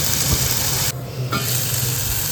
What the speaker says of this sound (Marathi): एक मिनटं आधी शिजवून घ्यायचं बटरमध्ये